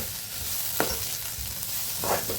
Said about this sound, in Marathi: आणि याचा तांबूस कलर येईपर्यंत आपल्याला असे फ्राय करायचे आहे.